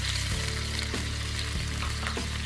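Chopped garlic frying in hot oil in a pan on the stove for chicken achari, a steady close sizzle with a few soft stirring scrapes over it.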